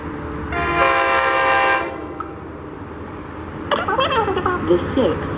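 An NJ Transit train at Mount Arlington station sounds a long loud horn blast, then wheels squeal and clatter as it rolls in, close by the platform.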